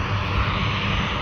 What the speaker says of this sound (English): Let's wind up their engines.